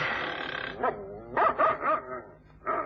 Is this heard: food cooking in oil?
no